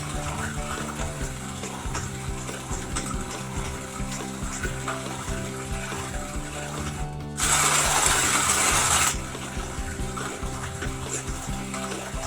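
An antique hand-cranked coffee grinder crushes coffee beans with a steady rattling, ratcheting mechanical churn, close and continuous, with a brief harsher burst of grinding noise partway through; no voices.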